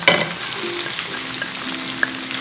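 Bacon, mushrooms and onions sizzle together in a hot pan, a steady close crackle with small pops and stirring scrapes, and no voices.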